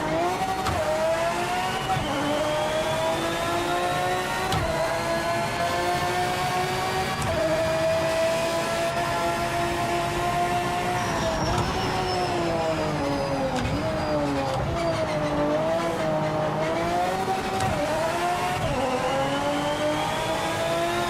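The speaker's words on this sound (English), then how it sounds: "This is a good sounding car." A race car in Project Motor Racing, driven with an H-pattern shifter, revs steadily and loudly, its pitch climbing and falling through gear changes with a brief tire squeal, constant engine drone throughout.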